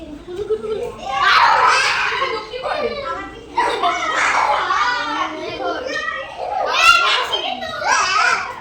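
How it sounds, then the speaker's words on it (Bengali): Children shout, squeal and chatter excitedly at a school Teachers' Day celebration in Bengal, loud bursts of high young voices rising and falling close by with brief pauses between. "যে যার মতন চিল্লাচ্ছে লাফাচ্ছে যা পারছে করছে"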